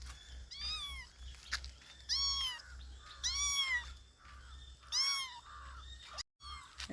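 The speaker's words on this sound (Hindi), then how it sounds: "छोटा से प्यारा सा बिल्ली का बच्चा" A small kitten outdoors in a grassy field in Karnataka gives several high, plaintive meows in short bursts, fairly close, over a low steady background hum, with brief pauses between cries.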